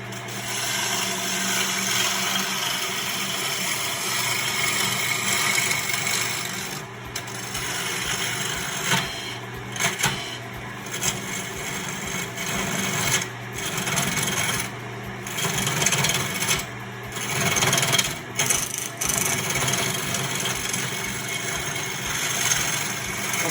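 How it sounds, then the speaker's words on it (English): Wood lathe turning chair front legs for a Maloof-style rocker, a continuous loud rough hiss and rasp of the tool cutting spinning wood, with short drops and bursts as the cut is lifted and reapplied, no voices. "All right, so I'm turning the front legs."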